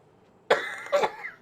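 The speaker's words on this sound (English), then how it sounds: "the more I talk, the more I cough" Two harsh, close coughs from a man chatting during a Warframe stream, the first sharp and the second rougher, with quiet in between.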